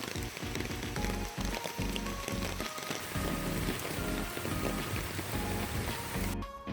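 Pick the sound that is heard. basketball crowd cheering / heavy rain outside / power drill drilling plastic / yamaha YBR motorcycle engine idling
heavy rain outside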